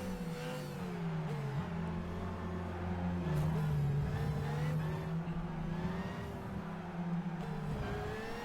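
A Super GT race car engine in Gran Turismo 5 drones steadily at high revs. Its pitch rises and dips as the car shifts gears and takes corners, with faint tire and wind noise underneath.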